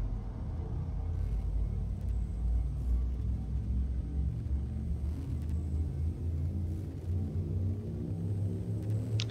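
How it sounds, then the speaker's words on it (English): Spaceship frameshift drive in a video game charging up, a steady loud low rumble with layered droning hum that holds evenly throughout, no voices over it. "Frameshift drive charging."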